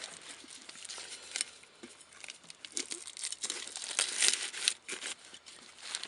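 Plastic wrap is peeled and torn off a new Airdog 100 fuel filter, giving close, moderately quiet crinkling and crackling in uneven bursts throughout, with no talking.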